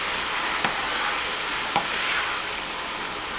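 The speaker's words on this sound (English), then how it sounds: "So now that the beef is in, we're going to put the sauce. We're just going to stir that up." Beef and sauce hiss loudly in a hot wok, a broad steady sizzle broken by two faint utensil taps as the mixture is stirred; no voices.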